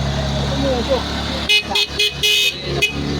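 A motorcycle horn honks several times in short, uneven bursts, loud and close, after a running engine and nearby voices.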